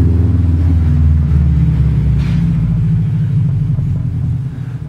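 A car engine rumbles steadily at a moderate distance, a low continuous drone with slight swells as it drives past, no voices.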